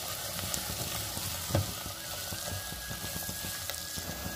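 Green beans going into a hot pan for vegetable biryani, a steady soft sizzle of frying with light stirring scrapes and one brief louder clatter near the middle, no talking.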